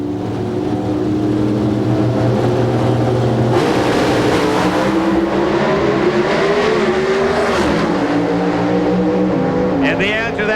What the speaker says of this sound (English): Warren Johnson over the Ford of Glidden, a 7:14, 194 miles an hour.